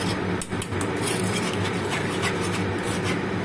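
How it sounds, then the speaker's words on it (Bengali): Ground spice gravy is pressed and stirred through a sieve, giving a continuous close scraping and rubbing texture with small bumps and clinks along the way. "যে মশলাটা বাটা হয়েছে সেটাকে খুব ভালো করে ছেঁকে নিচ্ছি"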